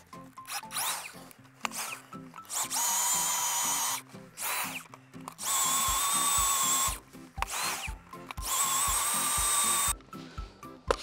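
An earth auger drills into very dense soil, its motor whining loudly in repeated bursts of a few seconds each, broken by short pauses and rattling, with no voices.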